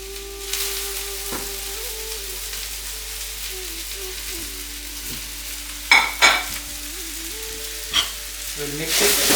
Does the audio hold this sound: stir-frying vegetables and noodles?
yes